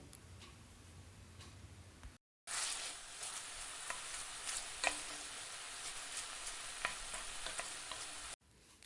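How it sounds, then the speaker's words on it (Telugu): Sabudana punugulu frying in oil over a medium flame make a steady sizzle with scattered crackles and pops. It is close and even, with no talking, and a brief dropout interrupts it early on. "వీటిని మీడియం ఫ్లేమ్లో ఫ్రై చేసుకోవడం వల్ల క్రిస్పీగా వస్తాయి"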